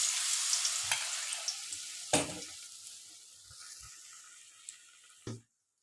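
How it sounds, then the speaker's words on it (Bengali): Bread pakoras coated in batter fry in hot oil with a busy, close sizzle that slowly fades and thins out, broken by a few clinks and taps before stopping abruptly. "আমাদের ব্রেড পকোড়া ভাজা কমপ্লিট।"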